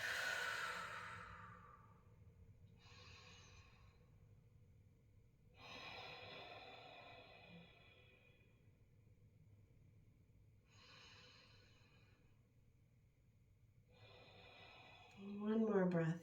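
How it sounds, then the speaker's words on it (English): Slow, deep breaths during a Hatha yoga session focused on the root chakra, several long airy inhales and exhales separated by pauses, fairly close and soft, ending with a louder breathy release. "Couple deep breaths."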